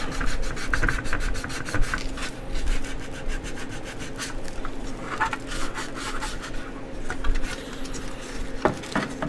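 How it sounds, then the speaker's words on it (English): Repeated rasping strokes of sandpaper rubbing on wood in a quick, uneven back-and-forth rhythm, close up, with no talking. "Starting to get a little bit tired of sanding here."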